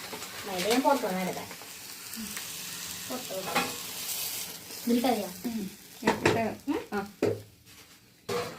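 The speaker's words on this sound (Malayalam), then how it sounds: "അത് വറുത്തിടാം" Food frying in a pan: a steady, soft sizzle runs beneath ongoing talk, with occasional clinks of stirring.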